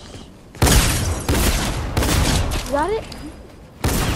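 Sniper fire in a multiplayer battle royale shooter, heard as loud, sharp cracks and booms in a busy firefight, with a voice speaking briefly over the shooting.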